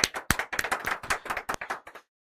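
Sparse clapping in a classroom-style gathering of railway exam aspirants, a handful of distinct sharp claps in an uneven rhythm that stops abruptly into silence.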